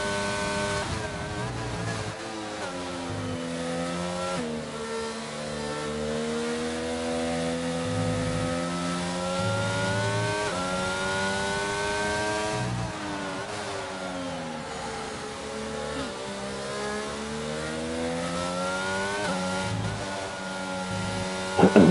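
Several Formula 1 race car engines in a racing video game, 2022-style cars at Belgium's Spa circuit, whining high and steady with rising and falling revs through gear changes, continuous and close.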